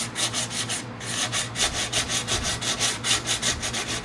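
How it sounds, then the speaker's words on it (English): Light, steady sanding strokes rub across an epoxy-free tumbler cup with almost no pressure, a rhythmic back-and-forth scratching that repeats at an even pace, close and alone. "Just need a light sand"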